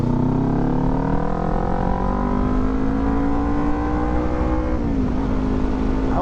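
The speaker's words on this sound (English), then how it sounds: "Now we just got this Budweiser truck going around him." A Budweiser truck drives around a vehicle on a road, its engine droning with a steadily rising pitch that holds, then dips near the end, heard close and continuous without talk.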